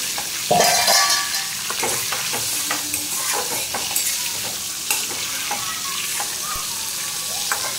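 Hilsa fish frying in a pan, a close crackling sizzle punctuated by sharp spatter pops and spatula scrapes, loud and busy throughout.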